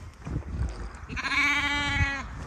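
A goat in the Irish countryside lets out a single drawn-out bleat about a second long, clear and fairly close, over a low outdoor rumble.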